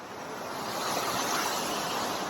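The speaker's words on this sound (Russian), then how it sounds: "И волны, когда они разбиваются, подпрыгивают аж до самого верха." Ocean waves crash against the cliffs at Broken Beach on Nusa Penida, Bali, a broad surging roar that swells louder midway and stays heavy, with no voices.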